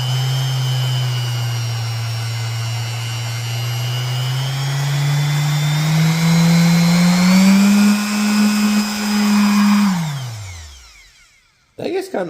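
An Alloyman random orbital sander whirs steadily at high speed, its pitch rising slightly before spinning down to a stop; a brief knock follows after silence.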